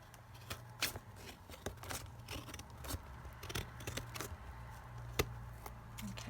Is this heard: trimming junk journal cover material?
yes